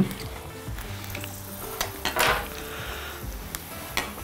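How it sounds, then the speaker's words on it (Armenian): Chopped sweet bell peppers sizzling and frying in oil in a pan, a soft crackling hiss with occasional stirring clatter, close by. "Թող մի փոքր տապակվի։"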